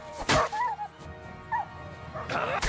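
A dog in Kingdom Come: Deliverance II barks sharply and whimpers during a brawl, with yips and whines between thuds and impacts, close and fairly loud.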